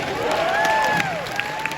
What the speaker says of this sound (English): let's get some applause for Wash.